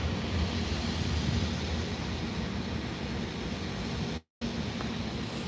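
A Ryanair Airbus A321 taking off at Birmingham airport makes a sustained, fairly distant jet rumble and roar with low-end growl, broken by a brief dropout of total silence near the end.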